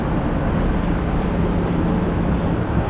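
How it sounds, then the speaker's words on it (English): High-speed train in a Madrid station, a loud, steady low rumble and whooshing hum with no distinct events, continuous throughout. "Getting on our high-speed train."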